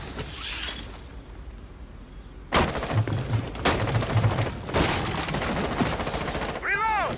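Burst-fire shots in the shooter game Rainbow Six Siege, several loud close bursts in quick succession with a muffled, noisy game background in between.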